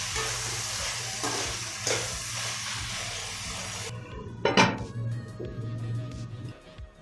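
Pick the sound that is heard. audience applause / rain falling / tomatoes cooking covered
tomatoes cooking covered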